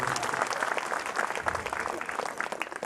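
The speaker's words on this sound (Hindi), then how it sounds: "एक बार माइक वाले के लिए जोरदार ताली बजनी चाहिए।" An audience at a Hindi comedy poetry gathering claps steadily for the sound technician, a dense moderate-level applause that runs throughout with a faint crowd murmur.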